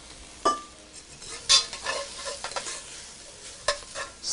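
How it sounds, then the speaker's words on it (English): Food with a splash of soybean sauce is sautéed lightly in a pan over a switched-off flame, giving a soft sizzle broken by a few sharp stirring and utensil scrapes. "Saute lightly."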